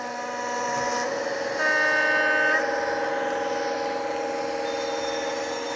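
An HO scale model diesel train runs on a layout as its sound unit blares a sustained multi-tone horn, steady and fairly loud, rising briefly in pitch and volume midway before holding on to the end.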